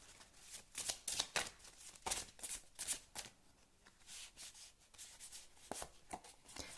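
Tarot cards shuffled and pulled from the deck, a string of quick papery riffles and swishes in irregular bursts, close and soft, with no voices.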